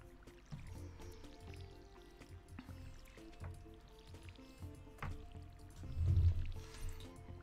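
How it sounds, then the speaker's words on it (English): Plants being watered: irregular, faint liquid pouring and splashing with soft squelchy drips, swelling briefly louder near the end, and no talk. "Let's just water these."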